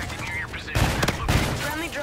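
Sidearm gunfire in Call of Duty: Infinite Warfare, a quick loud burst of shots in the middle of the clip, with someone talking over it before and after.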